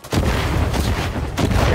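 Heavy gunfire in the Roblox shooter Unit: Classified, with two loud booming shots close by, the first lasting most of the short span and the second starting near the end.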